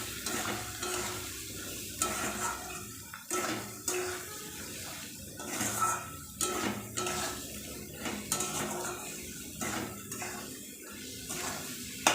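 Spice paste frying with potatoes and onions for a tangra fish curry, stirred with repeated metal scrapes and clinks against the pan over a low, steady sizzle, close and without talk.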